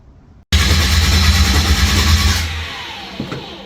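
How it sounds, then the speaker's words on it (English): A blown small-block Chevy in a Holden HQ one-tonner cranks over loudly and steadily for about two seconds without firing, its starter drone cutting off abruptly into quieter rattles. "That will obviously crank with no ignition."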